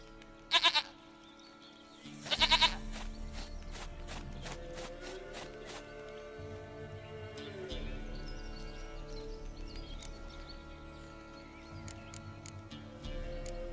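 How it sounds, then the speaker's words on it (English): Goat bleats from the video game The Witcher 3: Wild Hunt, two short loud calls early on over steady game ambience and music, with further in-game sounds following. "Goat of mine, dearest, sweetest goat."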